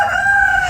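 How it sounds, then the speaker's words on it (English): A rooster crows loudly and close by at a backyard chicken coop in Florida after Hurricane Milton, a single sustained strained call. "I see my chickens out and about."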